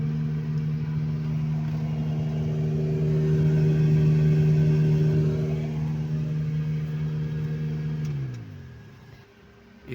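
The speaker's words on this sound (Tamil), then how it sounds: "இப்போ ப்ளோயர் ஆன் பண்ணுற ஃப்ரெண்ட்ஸ், சவுண்டு கேட்குது பாருங்கள்." A Renault Kwid 2022's AC blower fan runs with a steady, loud whirring hum that swells slightly midway, then winds down and fades near the end, heard close up without talk.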